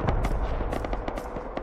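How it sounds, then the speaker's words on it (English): Rust explosions from in-game rockets sound as a rapid cluster of sharp, booming blasts that come one after another across the moment, loud and dense with no voices. "I don't like this. I hear rockets."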